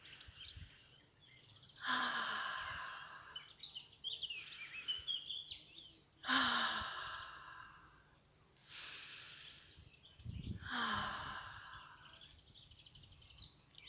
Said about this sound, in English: So 3 deep breaths.